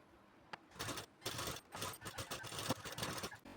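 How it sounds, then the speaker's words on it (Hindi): A sewing machine runs a second line of stitching along a blouse sleeve seam, a close, buzzing mechanical chatter in short uneven bursts after an initial click. "एक सिलाई हम और लगा देंगे ताकि ये सिलाई ना खुले दोबारा से"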